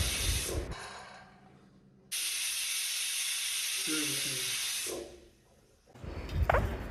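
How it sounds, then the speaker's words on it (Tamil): A loud, steady hiss of steam bursts from a pressure cooker whistle for about three seconds while vermicelli cooks, preceded and followed by quieter kitchen clatter. "குக்கரில் 2 விசில் வந்ததும் அடுப்பை ஆஃப் பண்ணிடலாம்."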